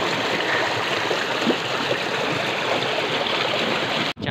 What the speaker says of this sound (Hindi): ये देखिए कितनी ज़बरदस्त सी साज की तरह आवाज़ दे रहा है पानी